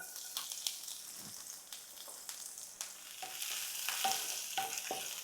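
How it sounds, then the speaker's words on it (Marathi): Chopped garlic sizzles in hot oil in a pan while being sautéed for a garlicky chutney, a steady close frying hiss with scattered stirring scrapes and a few soft clicks, no voices. "लसूण पण चांगली अशी परतून घ्यायची आहे"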